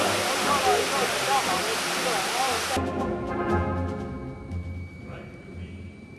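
Cascade fountains at a palace in St Petersburg gush as a loud, dense rush of falling water for about three seconds, then give way to a quieter scene with faint trickling and distant background sound.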